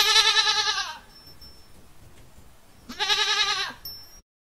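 A goat gives two loud, wavering bleats separated by a short pause, each one drawn out and close, with no talking.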